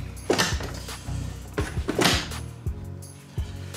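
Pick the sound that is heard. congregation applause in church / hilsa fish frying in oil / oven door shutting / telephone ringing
oven door shutting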